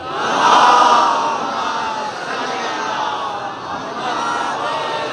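Congregation at a majlis loudly reciting salawat together, a swelling roar of many voices that peaks early and then holds steady.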